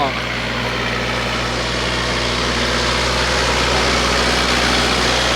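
A Kubota L5018 tractor engine runs steadily at a constant idle-like rumble, close and loud, with a continuous low drone and no change in pace throughout.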